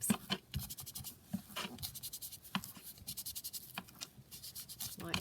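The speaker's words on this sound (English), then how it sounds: "Let's ink up the envelope slightly first." An envelope is dabbed and rubbed with an ink pad for junk journaling, with close, soft scratchy strokes in quick, uneven repetition and quiet background.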